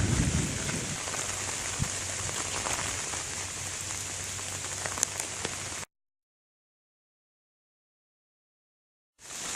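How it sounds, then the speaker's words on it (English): Heavy rain pours steadily on a campground in Bayfield, Wisconsin, in a dense, hissing wash with a low rumble underneath, then cuts off abruptly into silence before resuming. "it's raining pretty good"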